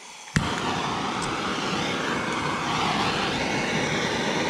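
A brazing torch roars steadily as it heats a joint on a metal rod for a scale RC rock crawler cage, igniting with a sharp pop and then holding a loud, continuous broadband rush close by.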